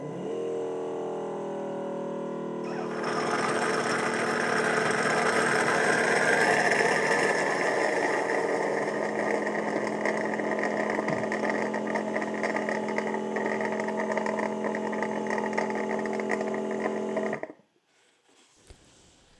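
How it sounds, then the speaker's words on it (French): The base station of a Dreame L10 Prime robot vacuum runs a steady suction motor for about fifteen seconds, a close, constant whirring hum that cuts off abruptly near the end. "ensuite la base aspire automatiquement le restant d'eau"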